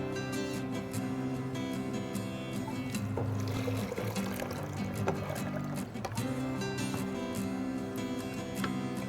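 Water poured into a Singer blender jar, a faint continuous trickle and splash under a low steady hum, no talking.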